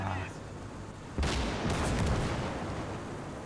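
Artillery fire in the strategy game Gates of Hell: a quiet start gives way to a sudden heavy boom with a rumbling, crackling tail that slowly fades, with a voice talking lightly over it.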